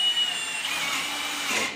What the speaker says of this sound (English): We'll go ahead and drill.